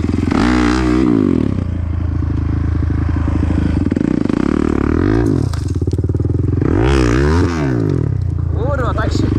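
A dirt bike engine revs and bogs in bursts, rising and falling pitch, close by, in a gravel pit canyon, with people talking over it.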